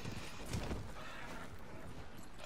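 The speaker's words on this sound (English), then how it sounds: "Come look at this fucking horse." Hooves clip-clop from a horse in a video game, a quiet, steady patter of hoofbeats with no talking over it.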